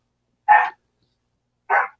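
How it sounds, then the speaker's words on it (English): Pixie, a small dog, gives two short, sharp barks about a second apart, close and clear against silence. "Pixie, no barking."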